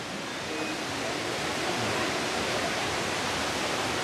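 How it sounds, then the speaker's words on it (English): Waterfall at Knott's Berry Farm theme park, a continuous broadband rush of falling water, steady and fairly loud with no breaks. "They do have the waterfall going."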